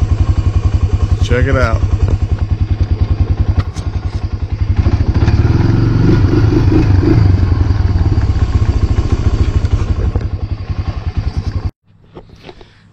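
A 2006 Honda 300EX ATV engine runs loud and close with a fast, even, thumping idle. It rises to a fuller roar midway, then settles before cutting off abruptly near the end, and a person speaks briefly over it.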